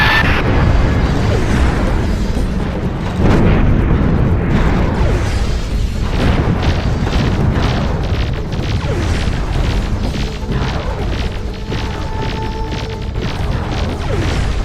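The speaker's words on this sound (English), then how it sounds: "we're under attack. They just keep on shooting. Our hull will give in soon." Space battle in Nexus: The Jupiter Incident as a ship comes under attack, with continuous loud booms, blasts and weapons fire layered over a dense mechanical rumble, bursts repeating throughout.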